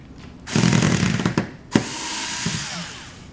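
A power screwdriver or drill backs screws out of the lid of an Oster 76 hair clipper, a loud, close whirring run that briefly halts, then continues as a steady buzz with no talking.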